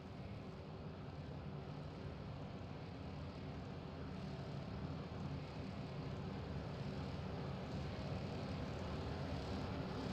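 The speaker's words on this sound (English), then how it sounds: "Listen to the engines." Race car engines idling and revving together at the start line of a racing video game, forming a dense, steady roar that holds at an even level without any break.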